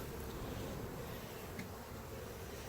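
A dense, steady drone of many honey bees buzzing close by around a hive during an inspection, continuous and unbroken throughout with no voices.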